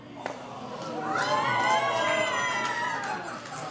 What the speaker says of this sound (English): So the hometown crowd like that.